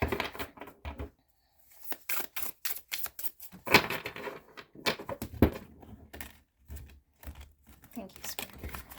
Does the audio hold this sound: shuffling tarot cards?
yes